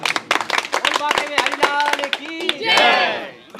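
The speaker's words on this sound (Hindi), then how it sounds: "एक आप सबसे भी अपील है कि अगर आपको अच्छे भजन लगते हैं तो तालियां जरूर बजाइएगा" An audience at a devotional bhajan gathering claps in bursts, near and fairly loud, mixed with cheering and overlapping voices, then a louder shout of crowd voices toward the end.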